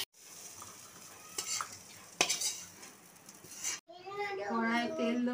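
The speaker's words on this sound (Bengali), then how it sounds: "আলুটা ভাজা হয়ে গেছে, আমি এই আলুটা তুলে নিচ্ছি কড়াই থেকে" Fried potato pieces lifted out of a sizzling wok of oil: a soft frying hiss with a few metallic clinks and scrapes of a spatula, then a voice begins speaking near the end.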